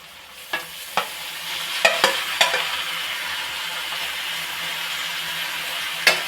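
Onions fry in a pan for a fish curry, a steady broadband sizzle with several sharp utensil clacks and scrapes of stirring scattered through it, close and fairly loud, no talking.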